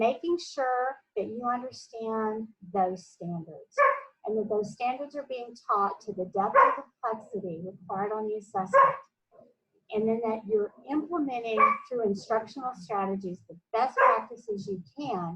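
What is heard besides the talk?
dogs barking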